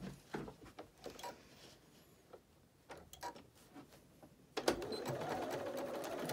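A sewing machine stitches fabric mask pieces with a quarter-inch seam, its motor whirring in short rattling runs and then a longer steady burst, faint and nearby.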